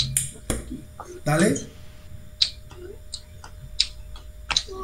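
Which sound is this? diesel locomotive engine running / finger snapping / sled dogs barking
finger snapping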